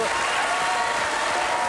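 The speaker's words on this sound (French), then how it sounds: "On vous applaudit." Steady, loud applause from a French television studio audience fills the whole moment, a continuous wash of clapping hands.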